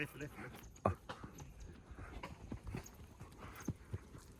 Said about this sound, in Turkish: Hayatımda ata ilk defa biniyorum.